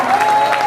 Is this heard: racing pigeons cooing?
no